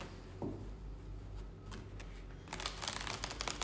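Cards riffled in a quick shuffle, a brief soft burst early on followed by a longer, crisper flurry of rapid flicking near the end.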